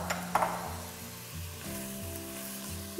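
Garlic, onion and bell pepper sizzle steadily in a pan, a soft continuous hiss with a couple of brief louder bursts near the start, sitting under a tonal musical backing.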